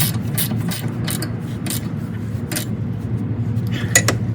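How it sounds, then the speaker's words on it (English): Wrench clicks and metallic taps while tightening a rear suspension link nut on a 2007–2011 Toyota Camry with a 14mm wrench, the bolt head held by a 15mm, in short irregular bursts over a low background hum. "We hold it with a 15mm, and we tighten it with a 14mm."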